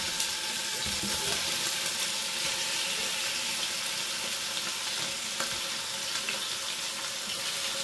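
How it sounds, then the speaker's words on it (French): Veal pieces browning in butter in a frying pan make a steady, close sizzle that carries on evenly throughout, with faint clinks and stirring underneath and no talk. "on fait revenir la viande et une fois qu'elle sera dorée légèrement, on ajoutera la farine."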